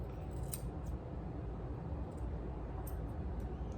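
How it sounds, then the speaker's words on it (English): Scissors snip through the ends of hair bangs close up, a few crisp cuts over steady soft room noise, with no voices. "let's just start cutting the ends a little bit"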